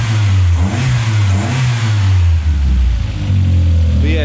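A turbocharged Toyota Starlet 4E-FE engine revs hard through a loud exhaust, its deep pulsing note rising and falling continuously up close, with a faint turbo whistle creeping in near the end.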